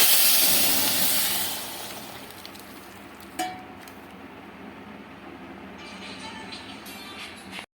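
Dal hits hot oil tempered with mustard seeds in a kadai, setting off a loud hissing sizzle that gradually fades to a softer steady crackle, with a brief clink of utensils partway through.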